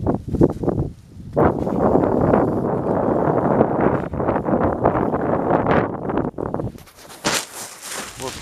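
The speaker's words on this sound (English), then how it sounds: "It's windy." Wind blows on a chilly, snowy day with light flurries, buffeting the microphone in a loud rumbling rush that surges and fades in gusts, then drops away toward the end as brighter rustling takes over.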